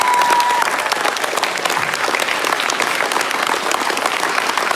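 A live audience claps in a big round of applause for children holding up certificates at a ceremony, dense and steady throughout, with a brief tone near the start.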